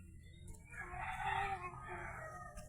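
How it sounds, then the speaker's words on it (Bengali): A rooster crows once in a drawn-out call lasting over a second, clear against a low outdoor rumble of background noise. "ওই যে পাখিতে ডাকে,"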